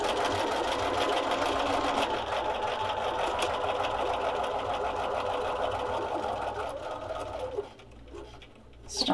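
Sewing machine with an open-toed foot stitching fabric squares for cross-stitch ornaments, a steady, close, rapid mechanical whir that runs for several seconds before slowing and stopping.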